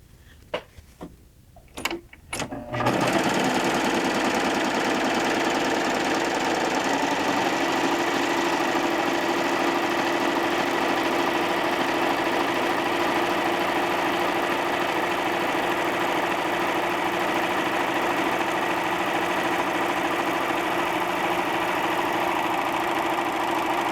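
A Baby Lock Triumph serger sews a narrow rolled hem, starting after a few quiet clicks and then running as a steady, fast, even mechanical whir that holds constant and close for about twenty seconds.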